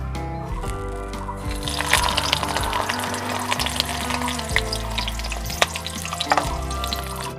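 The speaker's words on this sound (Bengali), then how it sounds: "মাছগুলো কলা পাতায় মোড়ানো রেডি হয়ে গেছে। এবার আমি এগুলো কড়াইতে চাপিয়ে দেব।" Bata fish parcels wrapped in banana leaf fry in a wok, giving a steady, close sizzle and crackle of hot oil with occasional stirring clatter, continuous throughout, with background music running underneath.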